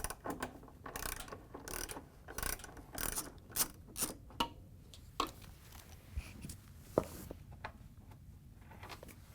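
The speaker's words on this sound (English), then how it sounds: "To get the back one off, we're going to use a 5/16 socket with a long extension." A ratchet wrench fitted with a 5/16 socket and a long extension backs out the rear screw on a Frigidaire/Electrolux washer. Quick bursts of ratcheting clicks come in several separate runs, close and clear, with no talking.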